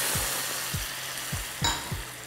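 White wine poured into a hot pan of well-fried garlic, with browned bits of shrimp and squid on the bottom, gives a steady broad sizzle with a few soft low knocks and a brief clink.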